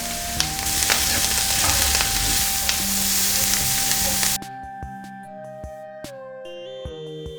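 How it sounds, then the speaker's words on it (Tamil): Onions sauté in a pan with a dense, close sizzle for several seconds before the heat drops away, leaving faint scattered clinks and a quiet hum. "வெங்காயம் சேர்த்த உடனே நல்லா வதங்கட்டும் வெங்காயம்."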